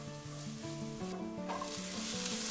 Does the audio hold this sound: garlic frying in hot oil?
yes